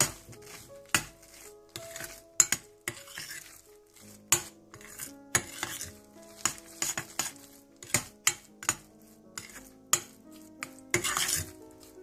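Repeated clinks and scrapes of a spoon stirring thick khoya in a bowl after microwaving, irregular strokes close up with no talking.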